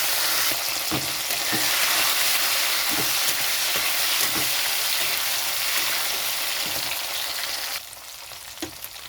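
Shrimp sizzle in hot mustard oil with garlic, a steady loud frying hiss with soft stirring clicks that drops in level near the end.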